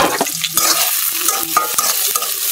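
Chopped onion frying in a small amount of oil in a pan for a fish and elephant-foot yam curry, a steady sizzle with repeated scraping and stirring clatters throughout.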